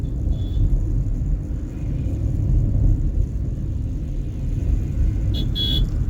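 A car engine during a driving lesson gives a steady low rumble as the accelerator is pressed gently, with a brief horn-like toot near the end.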